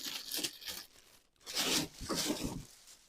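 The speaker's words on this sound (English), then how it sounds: "Let's see if we can get it unwrapped." Plastic wrapping crinkles and tears as it is pulled off a Hangar 9 Carbon Cub model airplane fuselage, in a few close rustling bursts separated by brief pauses.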